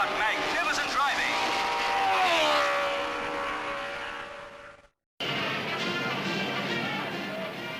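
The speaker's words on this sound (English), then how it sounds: "Here they come past the grandstands very fast." Historic racing cars of the Jim Clark era scream past the grandstands at high speed. Loud, close engines rise and fall in pitch as they pass, the recording cuts out briefly, and the roar returns under a commentator's voice.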